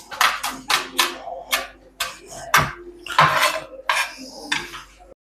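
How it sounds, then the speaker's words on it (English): A knife cutting onions on a board, a quick run of sharp rhythmic chops, loud and close, in several bursts with short pauses. "There, just let him cut the onions."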